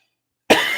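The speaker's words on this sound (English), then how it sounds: "I have a cough." A single sharp cough breaks the silence, close and loud.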